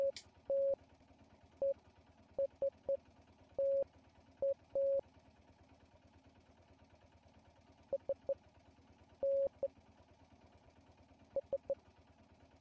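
Morse code beeps tapped out in the video game Martha is Dead, short and longer tones in irregular uneven clusters, clear and isolated against a quiet low hum.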